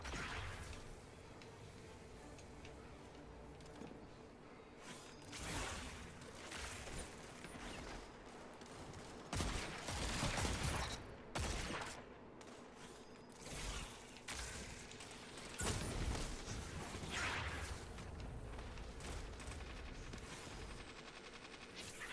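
Dense, continuous gunfire and mechanical weapon sounds in a Destiny 2 Trials of Osiris match, with bursts of shots and crashes swelling and easing over a steady game soundscape.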